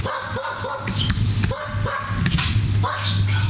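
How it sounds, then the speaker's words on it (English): Several dogs barking repeatedly, some near and some farther off, with yips mixed in over a steady low hum of background noise along the Mekong river in Nong Khai, Thailand. "There's just barking dogs everywhere."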